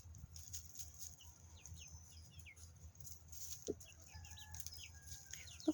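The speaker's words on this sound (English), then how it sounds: "Mr. Rooster, can you say hello to Sylvia?" Chickens and a rooster in a garden pen pecking at a pumpkin, with soft scattered clucks and chirps over a low outdoor rumble, faint and distant, a couple of sharper calls near the end.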